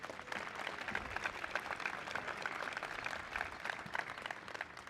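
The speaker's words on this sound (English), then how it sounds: "Let's give yourself a round of applause." The SUNY Maritime College class of 2025 gives a round of applause at a May commencement, a faint, distant, steady wash of many hands clapping.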